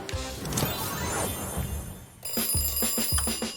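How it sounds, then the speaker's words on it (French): A bedside alarm clock rings in sharp repeated bursts, harsh metallic jangling that stops and restarts in a quick rhythm, close and loud over a cartoon-like background. "Je déteste ce réveil."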